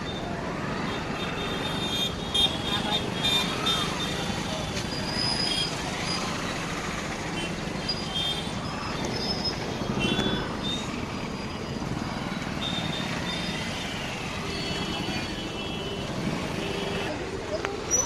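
Heavy road traffic drones continuously at moderate distance, a steady wash of engines and tyres with occasional faint horn tones and passing swells throughout.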